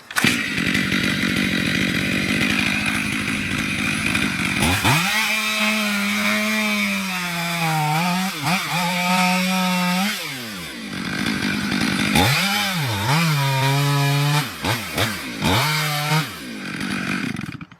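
A chainsaw plunges its bar straight into a large tree being felled, the engine revving up and bogging down repeatedly in loud, close bursts with sliding pitch between brief idles.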